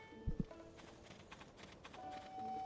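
Horse hooves clop in a short double thud near the start, followed by faint ambient game sounds and a soft rising tone, in Zelda: Tears of the Kingdom; no clear whinny stands out.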